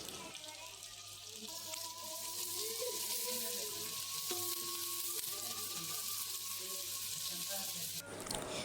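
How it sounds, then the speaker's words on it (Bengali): Chopped onions fry in oil and ghee with a continuous close hissing sizzle that swells after the first seconds and stops near the end, with faint music or tones in the background. "পেঁয়াজটা কিছুক্ষণ আমি ভেজে নেব"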